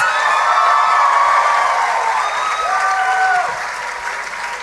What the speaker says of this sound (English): Ladies and gentlemen, I think that deserves another round of applause.